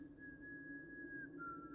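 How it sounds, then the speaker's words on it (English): A high, thin whistle holds a wavering tune, faint and close, with a slight break and pitch drop near the end, over a low steady hum. "The whistling started as I turned toward the door. It was high and broken, like someone trying to play a tune through cracked lips."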